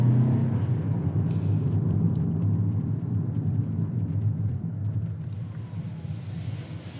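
A Lexus UX 250h hybrid crossover driving, its low, steady road and tire rumble with a faint whine close and continuous, slowly easing in level, with no talking.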